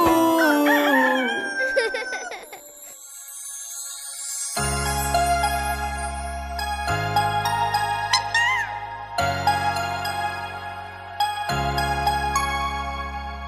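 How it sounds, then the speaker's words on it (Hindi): A rooster crows repeatedly against a musical backing, its calls bright and melodic within a Hindi children's song rather than sounding out alone. "मुर्गा बोले कुकड़ूकू"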